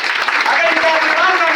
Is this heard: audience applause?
yes